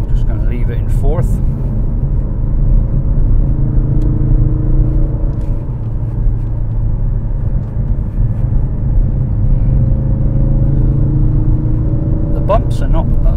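Ford Focus RS held in fourth gear through corners, a loud, steady in-cabin engine drone with a low rumble and gently shifting pitch as the car carries speed, with a voice briefly heard.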